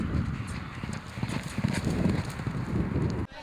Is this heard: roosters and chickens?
no